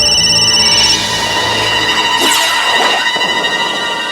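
A household telephone rings loudly and steadily in a home setting from a crime drama, its tones carrying with no talk over them.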